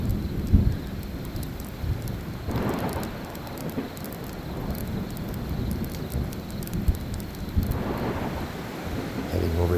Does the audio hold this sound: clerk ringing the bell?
no